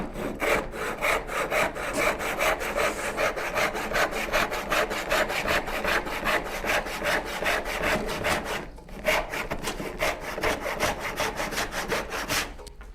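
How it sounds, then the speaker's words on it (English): A turning bow saw cuts through wood in a fast, regular rhythm of close, rasping back-and-forth strokes, with one brief pause midway. "Let's cut like an inch or so off of this"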